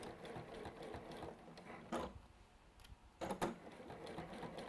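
A sewing machine runs steadily through fabric for a crafting tuck technique, a continuous rapid whirr with brief louder bursts partway through and near the end, fairly close and without talk.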